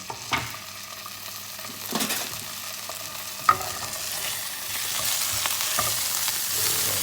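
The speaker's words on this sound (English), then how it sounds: "Mix in amongst all the bread and the croutons" Garlic, bread and croutons are stirred and fried in a pan, with a soft steady sizzle under scraping spoon strokes and a few sharp clacks against the pan, growing a little louder toward the end, with no voices.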